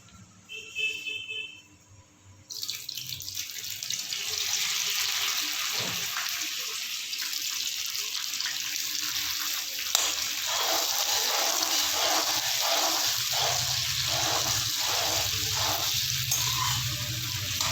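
Steady tap water gushes without a break while bitter gourds are washed in a home kitchen, a loud, close, broadband hiss.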